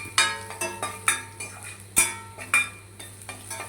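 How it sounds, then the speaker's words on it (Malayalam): Chopped onion, ginger and garlic are stirred in a pan for a prawn curry, with sharp metallic clinks of a spatula against the pan roughly every half second over a faint frying sizzle. The sound is close, and no one speaks. "എല്ലാം കൂടെ ഒന്ന് മൂത്ത് വരുന്നത് വരെ ചുറ്റി കൊടുക്കുക"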